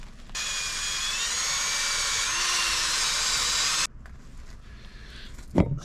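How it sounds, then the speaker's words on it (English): A wire wheel brush spun by a power drill scours a metal part with a loud, steady abrasive whir for about three and a half seconds, then stops, followed by quieter handling noises and a brief knock. "Now let's go ahead and wire wheel this."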